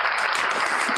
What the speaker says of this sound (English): I'm sorry for the very generic applause soundtrack